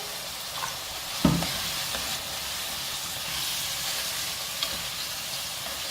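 Steady sizzling of food frying in a pan, with a sharp hiss and crackle burst as liquid hits the hot surface, then continued frying.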